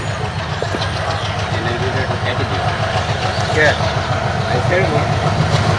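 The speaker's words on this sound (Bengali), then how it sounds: "দেখতে পাচ্ছেন এদিকে ট্রেন চলে আসছে" A train passing on railway tracks outdoors, a steady low rumble with rhythmic rolling clatter that holds at the same level, with voices faintly mixed in.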